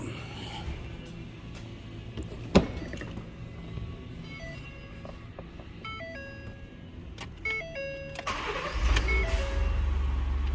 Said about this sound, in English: Let's see if we get in it and she cranks up.